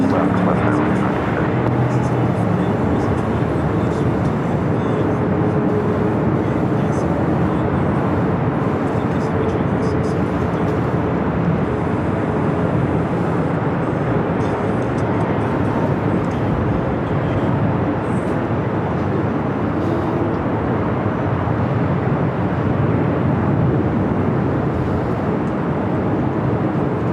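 A heavy Qantas Airbus jet at LAX airport produces a loud, steady, broadband engine roar that persists throughout, with radio chatter faintly mixed in.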